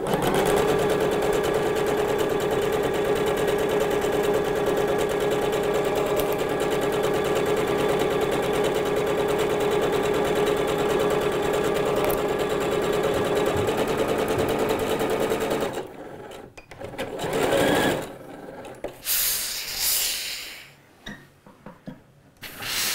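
A sewing machine runs in one long steady burst, stitching sleeve pieces 5 mm from the edge, its even mechanical whir close and loud, then stops and gives way to short bursts of handling and rustling.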